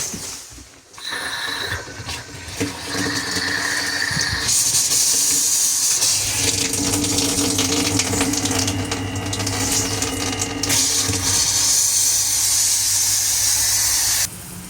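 A small autonomous mini shower in a bathhouse sprays water steadily, a continuous loud hiss of running water that fills the clip with no talking.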